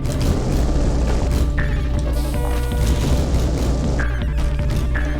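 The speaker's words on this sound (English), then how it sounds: "I tried to lob the bomb on him." A bomb blast in the Unity-built video game Rocket Cave Adventure, a loud, dense booming crash that fills the whole stretch with rumbling, layered game effects and no speech.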